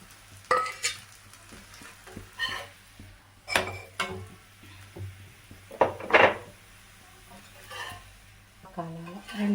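A ragi and drumstick-leaf roti fries in oil on a pan, soft sizzling broken by scraping and clinks of a spatula against metal as it is turned, with scattered quiet moments between strokes.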